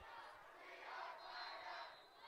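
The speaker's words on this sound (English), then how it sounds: "The Sturgis crowd getting loud for their military appreciation night" The Sturgis crowd at a high school football game on military appreciation night roars in a far, sustained swell of cheering and shouting. The cheer rises toward the middle and eases off at the end, with no close voices.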